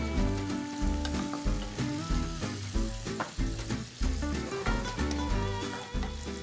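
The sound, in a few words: garlic sizzling in pan with peas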